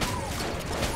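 Gunfire from a newly picked-up gun in the video game Enter the Gungeon: a dense, loud, continuous burst of shots filling the whole second, with no talking.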